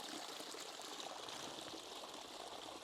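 A hand dips into fizzy, naturally carbonated mineral water with a strong iron taste, a steady close hissing fizz of bubbles running evenly throughout, no voices.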